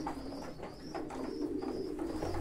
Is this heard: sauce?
no